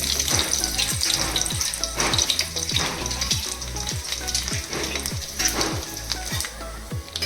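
Mustard seeds and garlic frying in hot oil for tomato chutney, a dense continuous sizzle with rapid popping crackles and repeated scraping stirs, close and loud with no talk.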